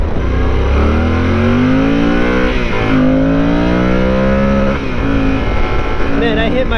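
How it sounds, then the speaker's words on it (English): A Yamaha Super Tenere motorcycle on a backroad, engine climbing steadily in pitch through the gears and reaching the rev limiter, loud and close with wind noise, a rider's voice briefly audible over it. "Man, I hit my rev limiter there."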